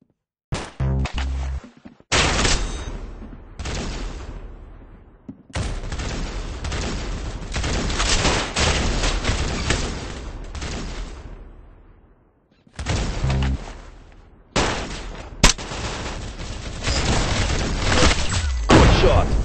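Gunfire in a Roblox CS:GO-style shooter game, long dense bursts of rapid shots in several sustained volleys broken by short pauses, loud and up front.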